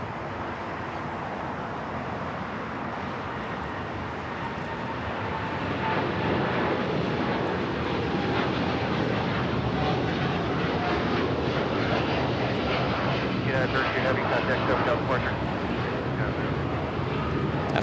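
A jet airliner takes off at Los Angeles International Airport, a steady distant engine roar that swells gradually louder and holds as a broad rumble with light wind noise.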